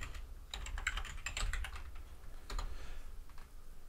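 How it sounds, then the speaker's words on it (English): Typing a command on a computer keyboard, bursts of quick, close key clicks with a short pause in between. "You have to type node minus minus dash dash version."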